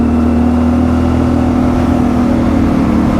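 A CF Moto 450MT motorcycle engine pulls uphill under throttle, a steady loud drone with a strong humming tone and wind rush, close and continuous with no talk.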